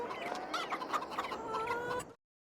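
Chickens cluck steadily inside a chicken coop in the video game Farming Simulator 22, a dense flock of overlapping clucks heard alone for about two seconds before cutting off abruptly.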